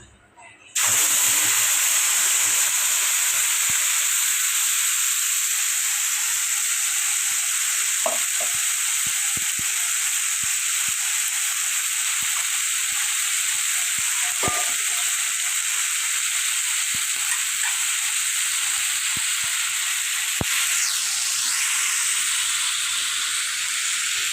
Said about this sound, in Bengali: এখন মশলাটা ভালো করে কষে নিচ্ছি এখানে দিয়েছি আদা রসুন পেঁয়াজ